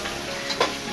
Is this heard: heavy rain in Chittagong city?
no